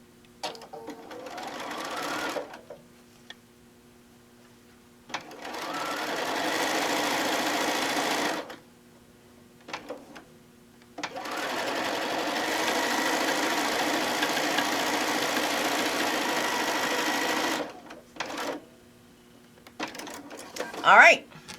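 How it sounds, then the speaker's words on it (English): A sewing machine stitches quilt blocks into a row in long bursts of steady, close mechanical whirring, separated by quiet pauses and a brief voice near the end. "All right, so we're going to sew."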